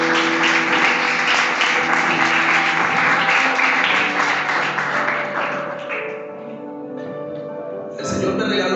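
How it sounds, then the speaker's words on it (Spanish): Congregation applause at a Spanish-language prayer service, dense clapping that fades out over a sustained keyboard or organ chord, which carries on alone near the end. "Bríndale un fuerte aplauso al Señor."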